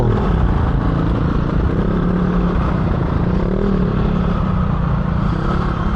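A 2025 Yamaha XMAX V3 scooter engine drones steadily while riding through slow traffic, a continuous close mechanical hum with faint shifting tones and no speech.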